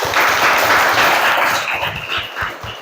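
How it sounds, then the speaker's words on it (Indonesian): A classroom audience of students applauds together, dense steady clapping that starts full and gradually thins and fades over a few seconds. "Beri tepuk tangan untuk kita semua."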